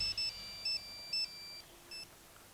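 A phone ringtone plays as a repeated electronic beeping melody in short bright bursts, moderately loud and clear, with no talking over it.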